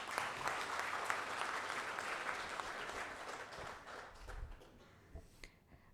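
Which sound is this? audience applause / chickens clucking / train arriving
audience applause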